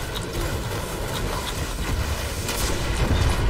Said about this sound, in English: I hit him with the RPG.